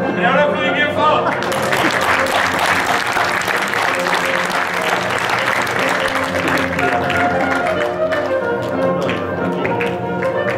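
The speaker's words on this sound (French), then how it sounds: "Et on applaudit bien fort." Loud, sustained applause and tapping from an audience at a comedy show in a hall. It runs at an even intensity for the whole stretch, with crowd noise and a few voices mixed in.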